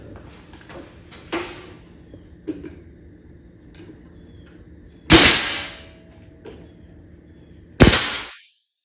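A nail gun fires nails into a wooden board while building a backyard washer game board, two loud sharp shots with a decaying ring, spaced a few seconds apart, after quieter handling knocks.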